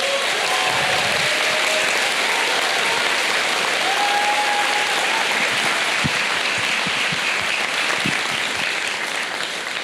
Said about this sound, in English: So I'm clapping back to all of you.